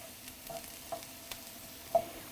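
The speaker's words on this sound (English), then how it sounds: "So just give it a few stirs and wait for it to cook down." Onions soften in a pan while a spoon stirs them, giving a faint sizzle beneath a few soft scraping stirs, close and quiet with no talk.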